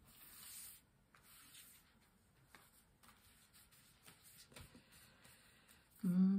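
Tarot cards rub and slide against each other in soft, papery shuffling swishes and scrapes, close and quiet, ending with a louder brief burst.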